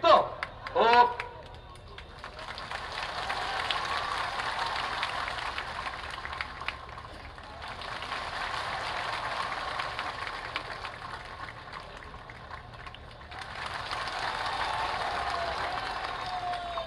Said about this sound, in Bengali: আমি হাত ওপরে করবো হাততালি জোরে হবে, হাত নিচে করবো হাততালি কমবে